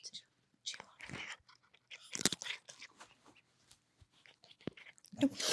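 A cat crunches on food close to the microphone in a home setting, giving irregular crisp chewing bursts, while people talk and whisper softly around it.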